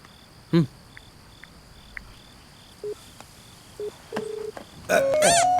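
A telephone being dialed, with several short separate keypad tones followed by a longer tone and ringing near the end, against a faint steady insect-like hum in a Malayalam film scene.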